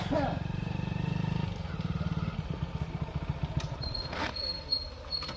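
A motorcycle engine putters steadily nearby with a rhythmic low chug that fades slightly as it settles, while people talk faintly in the background of a comedy sketch.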